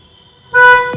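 One short, loud blast of a Volkswagen Polo GT's car horn, fitted with an Audi RS steering wheel, cuts in after a quiet moment, close by.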